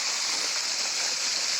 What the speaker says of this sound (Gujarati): આ રીતે પાણી ચાલે છે.